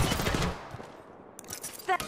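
Rapid automatic gunfire in the Apex Legends battle royale game, loud and dense bursts at the start that thin into scattered, fainter shots, with a brief voice near the end.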